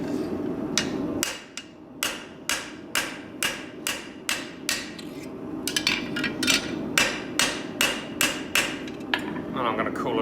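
A hammer strikes a rivet in a run of sharp metallic blows, about fifteen evenly paced hits spread across the span, loud and close with no talk.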